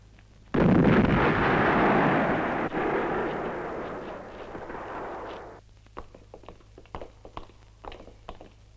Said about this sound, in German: Sprengen Sie die Panzer.